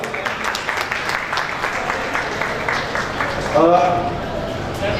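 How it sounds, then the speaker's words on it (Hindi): An audience at a foundation's annual function bursts into steady, loud applause to welcome a guest, Dr. Hiralal Lohana, with the dense clapping continuing throughout under some voices. "मैं चाहूँगा जोरदार तालियों में वेलकम कीजिए डॉक्टर हीरालाल लोहाना को"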